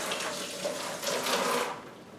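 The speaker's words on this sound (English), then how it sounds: "Rinse that sticky peach juice off my fingers" Water runs steadily from a kitchen faucet as sticky peach juice is rinsed off fingers, a continuous close hiss with slight splashing swells, no talking.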